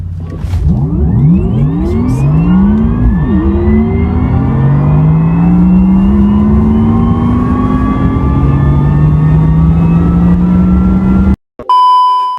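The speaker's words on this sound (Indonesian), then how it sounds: "Jadi jangan berharap banyak menemukan karakteristik torsi instan mobil listrik yang menghentak-hentak ketika pedal gas diinjak." A Wuling Air EV electric city car pulls away and speeds up gradually, its tonal whine and rising harmonic sweeps climbing steadily in pitch, loud and close, then cut off abruptly near the end.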